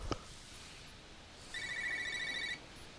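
A phone rings nearby with a single electronic ringing burst of about a second, loud over quiet room tone after a brief click.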